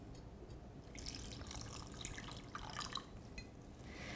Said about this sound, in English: just cover it with enough water to cover the top so all of the nuts are totally covered